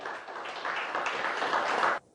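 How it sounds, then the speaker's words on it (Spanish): A church congregation applauds together, a dense wash of clapping building for about two seconds before cutting off abruptly, heard at moderate distance. "Denle un aplauso al Señor."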